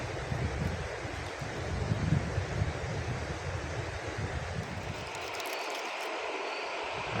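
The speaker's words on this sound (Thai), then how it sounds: "วันนี้นี่ลมอีกพี่น้องเนาะมาอยู่ห้วยนี่ลม" Wind gusts by a forest stream, a steady loud rush buffeting the microphone with a watery wash underneath, easing slightly toward the end.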